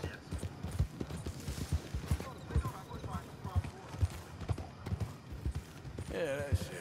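Steady clip-clop of horse hooves trotting in a video game, rhythmic and close, with a voice talking over it and a brief neigh near the end.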